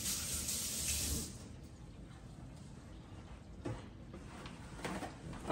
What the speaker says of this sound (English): let me wash my hands up a minute